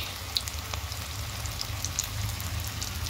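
Onion fritters (piyaji) fry in a small amount of reused oil in a small kadai, giving a soft, steady sizzle with scattered light pops and no talking.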